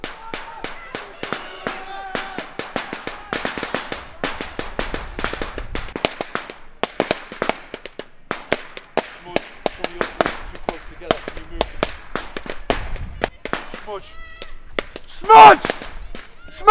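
Cadets fire blank rounds in a field exercise ambush, with sharp rapid cracks and bursts of gunfire from a wooded area across a field, some close and loud, others farther off, with shouting voices mixed in.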